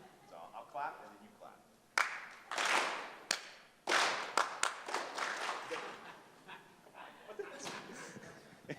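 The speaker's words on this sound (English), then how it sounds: "I'll clap, then you clap." Call-and-response clapping at an NFT.NYC 2021 session: a presenter claps and the audience answers with a ragged burst of claps, several sharp hits in quick succession mixed with voices and laughter.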